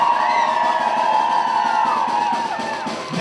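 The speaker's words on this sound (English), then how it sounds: "round of applause." A rally and march crowd responds with cheering, whoops and clapping, a dense, continuous roar of many voices that stays loud and close throughout.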